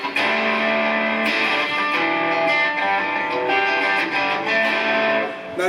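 Custom epoxy-bodied electric guitar played through distortion on the neck pickup, sustained chords ringing loud and close with a few picked changes, no voices.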